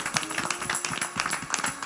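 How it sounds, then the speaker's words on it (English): A congregation at a Sunday morning church service claps in praise, a quick, irregular run of many hand claps at moderate volume, with no talking over it. "Will you give a God hand a clap of praise this morning?"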